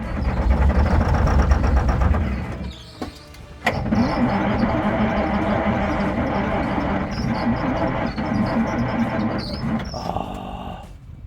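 A diesel forklift engine with about 300,000 miles runs after a jump start and ether, a loud steady rumble with uneven knocking, a brief dip near three seconds, then running on continuously.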